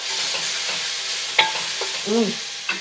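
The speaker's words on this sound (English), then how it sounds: "And now I'm going to stir that up." Fennel being stirred in a soup pot gives a steady gentle sizzle with a few close scraping clicks of the spoon against the pot, with no talking.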